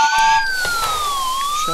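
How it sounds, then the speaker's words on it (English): A video game ambulance siren wails loud and close, its tone sweeping down and then rising again over nearly two seconds, with no voices over it. "Shut up, ambulance."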